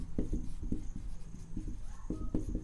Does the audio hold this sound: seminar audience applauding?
no